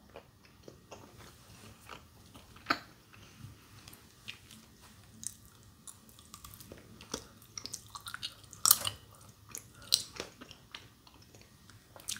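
Hard, chewy flower-shaped and orange-flavored candies being chewed up close, with irregular crunchy bites and clicks scattered over about twelve seconds, louder bursts near the end, no talking.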